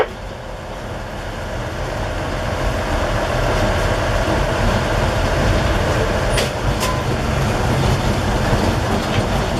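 A museum locomotive train coasting along the rails, a loud, steady rumble with constant wheel and track noise and faint rattling, carrying on without pause from inside the train.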